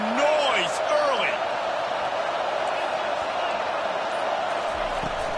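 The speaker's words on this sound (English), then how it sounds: "This crowd bringing the energy and noise early." Stadium crowd roar in Madden 23, a steady loud wash of massed voices filling the whole stretch, with a few brief whistle-like tones and bumps near the start.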